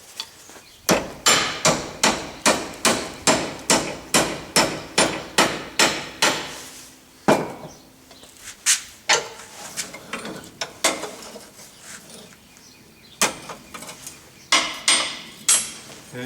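Steel tongs being forged are struck by a hammer while clamped in a vise, sharp metallic blows in a fast steady run of about a dozen, then scattered separate strikes and short bursts, loud and close with ringing decay.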